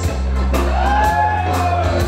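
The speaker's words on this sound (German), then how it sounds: "Großer Applaus" A live concert crowd at a band performance cheers and shouts in a short loud burst, with whoops and yells over a sustained low rumble of noise.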